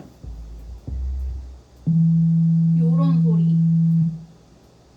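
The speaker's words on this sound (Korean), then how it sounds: "사인파였을 때 소리는" A pure synthesized sine wave tone holds one steady low pitch for about two seconds, loud and clean, preceded by brief low rumbles. Someone speaks briefly over it.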